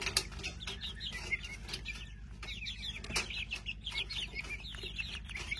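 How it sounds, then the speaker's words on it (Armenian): Roosters and a hen clucking and crowing in a village yard, several birds calling in short overlapping bursts with a wing flap, close and steady over a rural background hum. "երկուսը կարծես թե աքլոր են, մեկը հավա"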